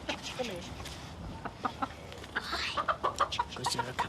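Chickens cluck and chatter in short, scattered bursts nearby, with quiet background noise and faint voices.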